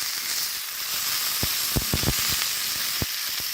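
Mudakathan greens stir-fried in a hot pan give a steady close sizzle and hiss, broken by several sharp scraping clicks as the spatula turns them.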